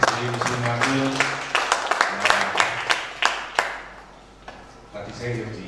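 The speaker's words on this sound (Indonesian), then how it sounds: "Sekali lagi terima kasih, tepuk tangan Ibu Sri Muslimatul." At a talk on karawitan gamelan arts, a small audience gives scattered, uneven handclaps. Several distinct sharp claps land in a loose run, and voices speak over and around them before the clapping thins out.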